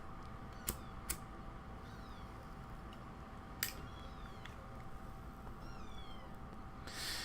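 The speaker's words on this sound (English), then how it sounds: "She's looking at me and she's just meowing constantly." A cat meows repeatedly at a window indoors, several short rising calls spread across a steady background hum, moderately close but not loud.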